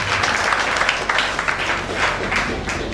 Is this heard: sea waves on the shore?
no